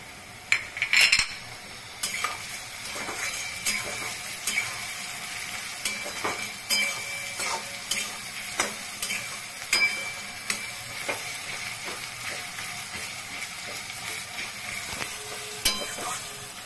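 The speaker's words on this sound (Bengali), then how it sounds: "পেঁয়াজটা ভাজা হয়ে গেছে" Onions frying in a pan for peyaj posto, with Kashmiri chilli powder added, a steady close sizzle under frequent metal spatula scrapes and clinks against the pan, no voices.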